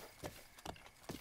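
Horse hooves gallop in the Zelda Breath of the Wild video game, three muffled thudding clip-clop beats at a steady pace over a continuous background wash.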